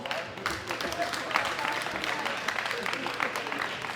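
An audience applauds the bronze medal winner at a 2018 world classic powerlifting championship ceremony, a dense, continuous patter of clapping from a crowd at middle distance.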